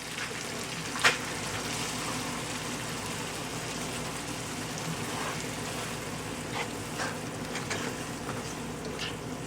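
Onions fry in a pan over raised heat for chicken saag, a steady close crackling sizzle with a few sharp pops and light stirring scrapes.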